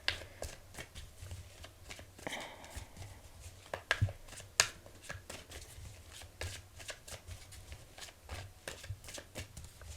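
Tarot cards are shuffled and drawn by hand in a quiet room, a soft close-up run of rapid riffling flicks and snaps with a few sharper card slaps, faint overall.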